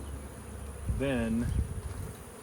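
Honeybees hum steadily at a weak hive with a laying worker problem, a soft continuous buzz with one brief, clearer tonal drone as a bee passes close, while a voice speaks faintly.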